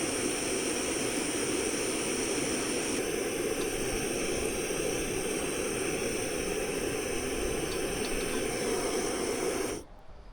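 Water boiling in a pot on a camp stove outdoors, a steady loud roaring hiss from the burner and bubbling that cuts off abruptly near the end, leaving near silence.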